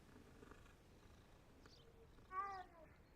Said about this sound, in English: Weird meow